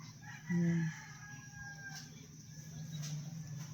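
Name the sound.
chicken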